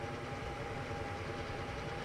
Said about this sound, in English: There's that train from earlier.